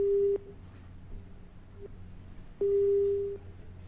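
Telephone disconnect tone after the caller hangs up during a live news phone-in: short steady electronic beeps, a brief one followed later by a longer loud tone, with no talking over them.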